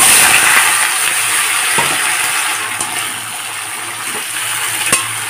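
Cut potato, green banana and papaya fry in hot mustard oil with cumin seed in a kadai, a loud, dense, continuous sizzle with a few faint clinks and no talk.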